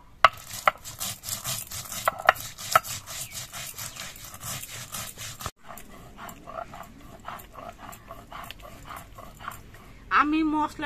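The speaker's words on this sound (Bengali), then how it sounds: "আমি মশলাটা শিলে বেটে নিচ্ছি।" Spice paste with green chillies and salt being ground by hand on a stone shil, a rhythmic scraping and rubbing with repeated strokes. It is close, with a voice speaking over parts of it.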